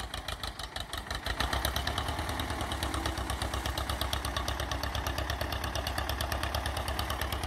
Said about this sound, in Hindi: एस्कॉर्ट 335, बहुत ही कम खर्चे का ट्रैक्टर।